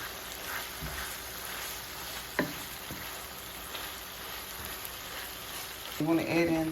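Taco salad dip mixture thickening in a pan gives a soft, faint sizzle and bubbling, with a sharp clink partway through and a louder stirring clatter near the end.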